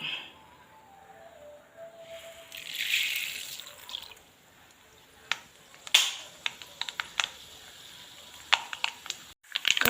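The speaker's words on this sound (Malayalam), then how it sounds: "കടുക് പൊട്ടി" Mustard seeds crackle and pop in hot oil as a bilimbi pickle is started, with scattered sharp snaps that grow more frequent over several seconds, quiet and close to the pan.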